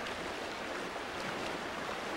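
Broadband rushing white water from river rapids on a Japanese mountain river, heard during canoe touring; a steady, dense roar of churning waves, fairly close and continuous, with no voices.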